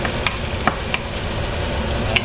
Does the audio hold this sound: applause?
no